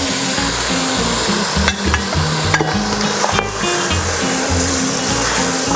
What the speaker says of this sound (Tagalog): Isama na rin natin yung ating luya. At igigisa natin yung ating bulalo meat.